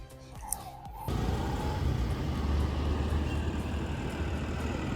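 A car on a road trip toward Yercaud, with a steady engine and road rumble that rises abruptly after a brief quieter moment at the start and then holds, loud and continuous.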